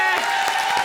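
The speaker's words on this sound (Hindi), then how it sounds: "एक बार जोरदार ताली बजा हमारे लिए।" A studio comedy-show audience claps loudly, steady applause mixed with crowd noise and a sustained tone beneath it, brief and dense.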